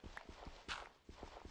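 A horse walks in Minecraft, its hooves clopping in a quick, uneven rhythm at moderate distance, with a brief louder thump partway through.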